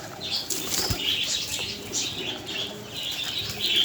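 Pigeons gathering for scattered grain beat their wings in a steady, fluttering rush close by, with a dull thud near the start and no talking.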